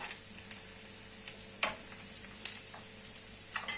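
A soft, steady sizzle of onion and garlic frying in a pan, with occasional louder crackles and a stirring scrape near the middle.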